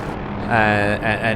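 Steady rotor and turbine drone of an OH-6A light helicopter in the DCS flight simulator, loud and close with a rising whine partway through, under a voice speaking.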